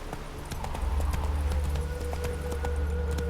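Hooves of Geralt's horse Roach in the video game The Witcher 3: Wild Hunt, a steady, close clip-clop trot on hard ground, loud and rhythmic throughout over a low ambient hum.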